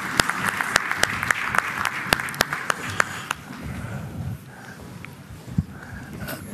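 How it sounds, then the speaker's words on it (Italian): Applause at a Confindustria business assembly, sharp individual claps ringing out over a murmuring hall, thinning to scattered, quieter claps and low crowd noise in the second half. "volevo tributare loro un applauso"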